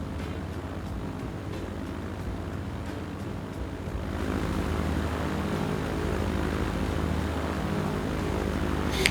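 A small propeller plane taking off in the Transport Fever video game: a continuous droning engine hum that grows louder midway as the plane powers up for takeoff, with no talk over it.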